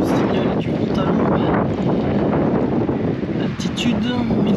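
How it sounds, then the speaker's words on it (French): Wind and rain on a mountainside at 1350 m altitude during a hike in the Cévennes: heavy, constant wind buffeting the microphone close up, with a person speaking over it. "Sous la pluie et le vent."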